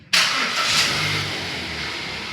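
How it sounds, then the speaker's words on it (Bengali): A Hyundai Grand i10 Magna car engine cranks and fires up abruptly, then settles into a steady, loud, close running hum with a brief rev. "এবার গাড়িটা একবার স্টার্ট করি।"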